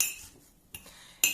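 A spoon clinks against a glass while stirring sugar into chopped onion, with a few light, sharp taps spread over a moment, close and fairly quiet.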